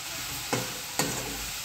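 Okra frying in a pan under steady loud sizzling, with two brief spatula scrapes as it is stirred, close up and without talk.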